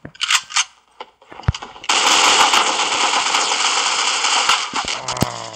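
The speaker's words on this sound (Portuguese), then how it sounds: "como é que eu erro tanto de tiro, velho?" AK-47 fire in the Critical Ops mobile shooter game: a few sharp single shots, then a long dense burst of automatic gunfire, loud and close, ending with more scattered cracks.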